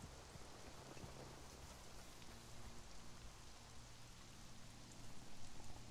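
Steady rain falling in the survival game Conan Exiles, a continuous soft hiss of drops on surfaces, fairly quiet and even, swelling slightly toward the end, with no talk over it.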